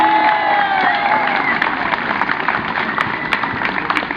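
A crowd at a rally in support of hospital strikes cheers and applauds, loud and sustained, with whistles, shouts and dense clapping blending into a continuous roar.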